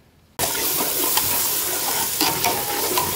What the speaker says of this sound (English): I'm frying stew.